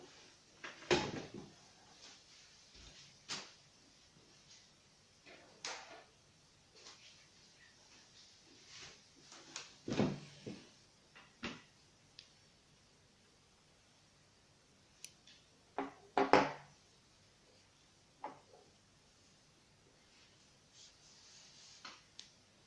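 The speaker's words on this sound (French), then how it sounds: "Je tire le fil, je coupe." Scissors snip yarn while a child's Mickey hat is crocheted, a few soft, sharp clicks and snips scattered through a quiet room, close and faint, with no voices.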